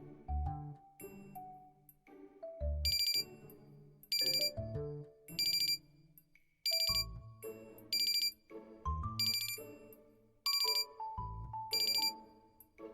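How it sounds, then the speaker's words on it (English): A phone alarm rings in the Love and Deepspace game, a repeating bright electronic chime pattern in regular bursts, layered over a soft melodic tune with low bass notes, no voices. "that's an alarm I set."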